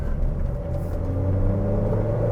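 A Pontiac Vibe GT hatchback accelerating, with a steady low engine rumble and a rising drone heard from inside the car, and no talking.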